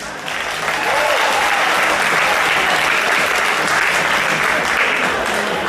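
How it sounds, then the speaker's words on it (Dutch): Loud, dense audience applause for the fighters at a kickboxing or fight event, swelling in after a brief moment and holding steady as a continuous roar of clapping with no voice over it. "kijk, het applaus bij de vechters."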